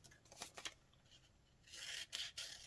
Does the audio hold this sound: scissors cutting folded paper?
yes